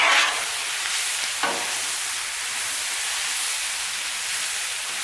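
Cabbage, bacon and sausage fry on a Blackstone griddle in a steady, even sizzle, with a brief scrape of a spatula stirring the food early on.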